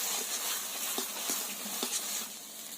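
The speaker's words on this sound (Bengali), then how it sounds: "আবারও ভালো করে নেড়ে দিতে হবে" Taro stolons being stirred with mustard paste in a hot pan, a soft steady sizzle broken by a few faint scraping strokes, close and without speech.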